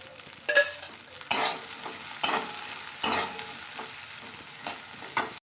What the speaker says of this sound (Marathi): बिया भाजण्यासाठी आपल्याला थोडंसं तेल घालायचं आहे यामध्ये